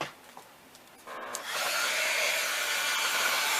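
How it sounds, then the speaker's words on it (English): Heat gun warming embossing powder on a sympathy card: a steady, loud rushing blast of hot air swells in after a quiet moment and holds continuously to the end. "Now let's put the heat gun to it."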